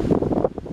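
Gusty wind blows outdoors around a house during exterior painting with an HVLP sprayer, a rough buffeting rumble that rises and falls across a short moment with no talking.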